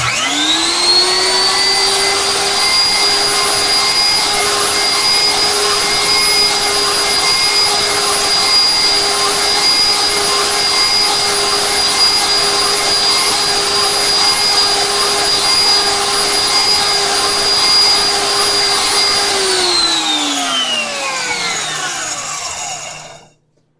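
A loud electric grinder powdering herbs whirs at a steady high pitch for about twenty seconds, then winds down and stops.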